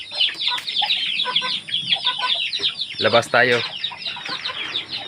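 Many pet chickens clucking close by, a busy overlapping chorus of short clucks with one louder drawn-out squawk in the middle; a person speaks briefly among them.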